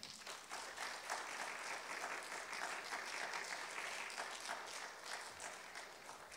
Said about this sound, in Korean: 큰 박수로 우리 목사님을 환영하도록 하겠습니다.